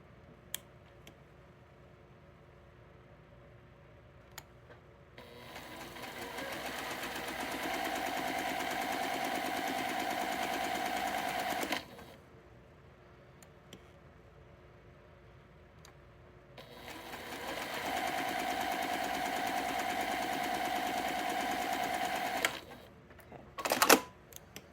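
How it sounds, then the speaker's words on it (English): A sewing machine stitches lines across a quilt block in two long, steady runs of whirring, rapid stitching, each lasting about six seconds and separated by a quiet pause, close by and fairly soft. "now we're going to sew on our lines."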